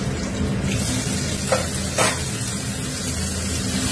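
Fish dumplings (muitha) fry in hot oil sprinkled with salt, giving a steady loud sizzle throughout with a couple of brief sharper crackles and stirring scrapes near the middle.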